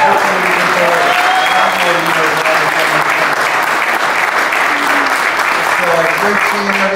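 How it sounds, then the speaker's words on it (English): A party crowd at a football contest drawing gives Brian and Liz a big round of applause, a loud, sustained roar of clapping that stays steady throughout, with voices and cheers audible within it. "I'd also like to give uh, Brian and Liz a big round of applause for throwing this party"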